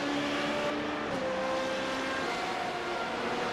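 Formula 3.5 race cars in the iRacing sim at Monza, a train of cars running down the straight, give a steady, loud, continuous engine drone with a sustained whine throughout.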